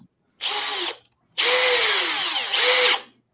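A Makita 40-volt cordless drill driver whirs alone in three close bursts, a short run, a pause, then a longer run that rises in pitch near the end before stopping.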